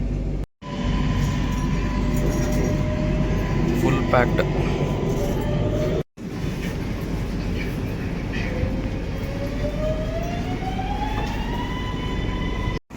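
A metro train runs through a Bangkok metro station with a loud, steady rumble, joined late by a rising whine as it gets under way, while people talk nearby.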